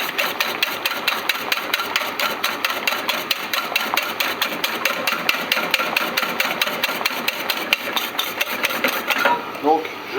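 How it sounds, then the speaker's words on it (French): A whisk beats eggs and sugar in a bowl over a bain-marie for a génoise sponge batter, giving a rapid, steady run of light clinking strokes that continues evenly throughout. "Donc je bats pour chauffer le mélange œuf et sucre."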